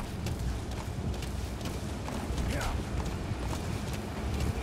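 Donkey hooves clip-clop steadily in Metal Gear Solid V: The Phantom Pain, a continuous near rhythm of hoof falls over constant game ambience, with talk at points.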